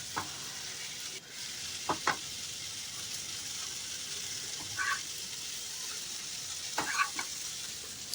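Aloo paratha fries on a pan, with a soft, steady sizzle running throughout and a few brief clicks and scrapes from turning or pressing, close but fairly quiet, with no talking.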